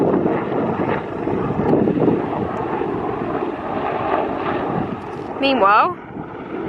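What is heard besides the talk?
helicopter flying overhead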